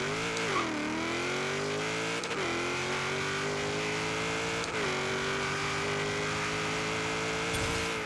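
A Bel Air drag car with a wheelie drag tune makes a quarter-mile pass. A loud engine roar climbs steadily in pitch, broken by distinct gear shifts, and the car stays close the whole way.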